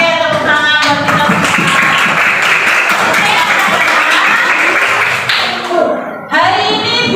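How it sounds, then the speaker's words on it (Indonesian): Schoolchildren in a classroom clapping together in a lively, rhythmic burst at close range, mixed with young voices and chatter, briefly dipping before resuming. "tepuk tangan buat kita"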